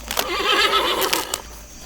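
A horse lets out a loud, close whinny lasting about a second, a wavering high neigh that fades to quiet, with no talk.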